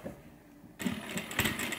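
A sewing machine stitches straight across the bottom of a messenger bag, starting up after a quiet moment into a fast, steady mechanical whir with small rhythmic clicks.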